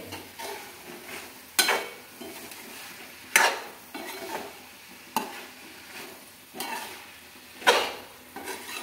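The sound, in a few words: eggplant frying and being stirred in spice masala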